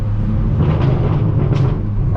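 Straight-piped BMW M4 F82 on a canyon road, a loud, steady low exhaust drone with a deep rumbling tone that holds evenly throughout, heard from inside the car.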